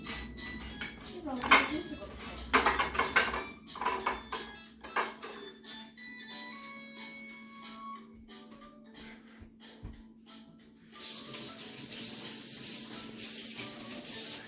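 A spoon and dishes washed in water at a kitchen sink, with clinking cutlery, splashing and running tap water heard near, under frequent conversation, and a steadier rush of water toward the end.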